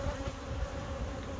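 Honeybees buzz at a hive during the introduction of a new queen, a steady low drone from many insects, close and fairly quiet, with no talk.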